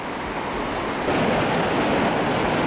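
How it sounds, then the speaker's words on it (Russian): The Chuya, a mountain river in the Altai, rushes past near the Mozhay bridge as a loud, steady roar of broadband water noise that swells slightly after the first second, with no voices. "А это река Чуя в районе Можайского моста."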